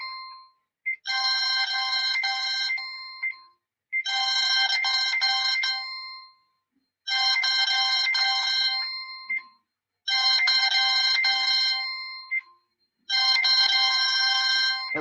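A phone ringtone plays a repeating electronic melody in five evenly spaced bursts about three seconds apart, each separated by silence, fairly loud and alone.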